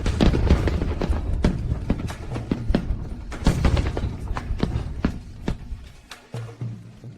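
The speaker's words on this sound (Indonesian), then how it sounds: "Aku menyalakan kembang api Dewi" Rapid, continuous booms and crackling pops crowd together, a dense loud barrage of explosions with little pause between them.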